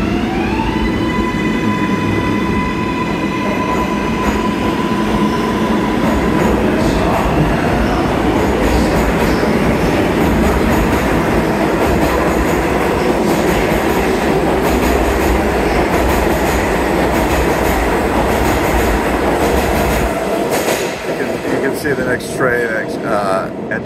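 A subway train runs through a tunnel and into a station, a loud continuous rumble with rail clatter and rising squealing tones, dropping off at the end as it slows.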